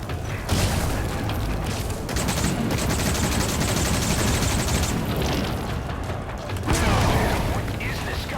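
Gunfire in the video game Metal Gear Solid V, dense rapid bursts and blasts forming a loud continuous clatter of battle with mechanical noises mixed in.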